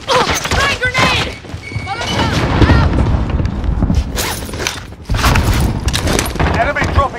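Grenade blasts and chaotic combat noise from the shooter game Call of Duty: Modern Warfare, loud and dense throughout, with booming bursts layered under overlapping shouted voices.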